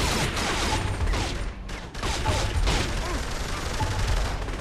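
Dense gunfire in the Saints Row 3 game, loud rapid volleys of shots running almost continuously, with a short dip partway through.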